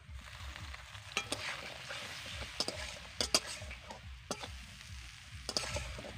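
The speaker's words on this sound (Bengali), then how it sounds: "এবার মশলাটাকে একটু কষিয়ে নেব" Spice masala stir-fried in a pan with a little water for a fish curry with drumsticks, potato and papaya, a steady close sizzle broken by several sharp spoon scrapes and clinks, no talk.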